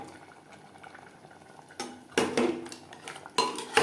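A spoon clanks and scrapes against a metal pot while mutton curry is mixed with its gravy for biryani, a few loud close knocks and stirs over a quiet background.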